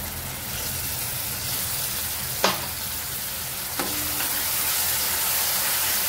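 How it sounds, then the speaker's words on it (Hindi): Puree of two tomatoes sizzling in hot oil for paneer bhaji, a steady close hiss and crackle of frying with two sharp utensil clicks along the way, no talking. "यामध्ये मी टोमॅटोची प्युरी केलेली ती घालून घेणार आहे। दोन टोमॅटोची प्युरी केलेली।"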